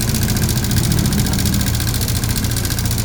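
A car engine with a broken intake and exhaust rocker arm runs steadily at idle, a loud, continuous low rumble with a rapid metallic ticking layered over it, close up and with no talk.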